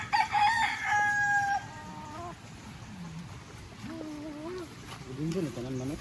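Rooster crowing, a loud bright crow at the start and later, mid-distance clucks and calls from a chicken, with a person talking underneath on a rural lot.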